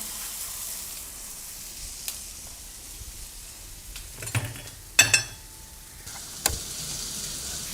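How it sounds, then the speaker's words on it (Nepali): A pork chop pan-searing with whole rosemary and thyme in a hot pan gives a steady, close sizzle, with a few sharper crackles and utensil clinks near the end. "यो प्यान तातै छ अहिले। सो यसको माथि म प्यान सेयर गर्नु गइरहेको छु।"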